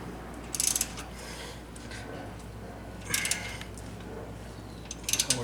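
A ratchet tightens a tie rod on a Nissan Rogue, with three short bursts of rapid metallic clicking, near and crisp, separated by quiet pauses.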